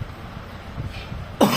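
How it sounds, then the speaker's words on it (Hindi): A single short cough or throat-clear bursts out near the end, close and fairly loud after quiet low room noise, during a family moment at home around chand raat. "खांसी बहुत हो रही है गाइस"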